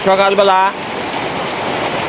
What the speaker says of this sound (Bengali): এই পরিমাণে অজোরে বৃষ্টি পড়তেছে